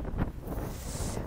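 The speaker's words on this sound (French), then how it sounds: "À nouveau le vent souffle" Wind buffets the microphone outdoors in Hanover, a loud rough rumbling gust with a brief airy hiss, no voices.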